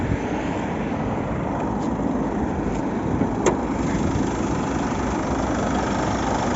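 A steady, low Chevrolet Captiva 2.2 diesel engine idle rumbles continuously up close, even and unchanging, with a faint click partway through.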